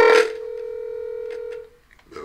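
A single telephone dialing tone sounds clearly and evenly for over a second after a brief burst of noise, then falls quiet with faint clicks at the end.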